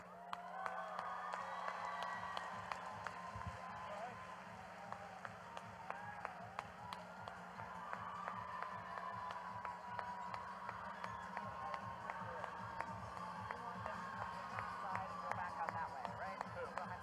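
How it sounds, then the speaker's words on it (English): Crowd at a robotics competition event applauding and cheering for mentors during a parade, a steady sustained wash of clapping with scattered whoops and a low rhythmic thumping underneath throughout. "Give them a big round of applause"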